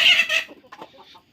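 Farm chickens cluck loudly up close in two brisk bursts, then fade into softer scattered clucks with no talking.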